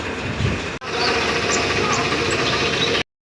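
A tractor engine idles nearby with a steady rumbling drone, briefly cutting out before resuming, loud and continuous.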